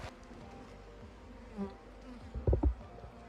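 Honey bees hum faintly in an open hive during a spring colony check, a soft continuous buzz with a few louder knocks and handling sounds near the end.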